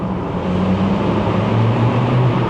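A Volkswagen Up GTI small hatchback engine drones steadily through a tunnel, with a low rumbling hum and echoing road noise throughout.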